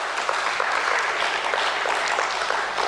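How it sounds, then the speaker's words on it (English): A ceremony audience at a stock exchange listing event applauds as a speaker is welcomed on stage. Dense, even clapping fills the room at a steady level for about three seconds. "Let's welcome him on stage with a round of applause"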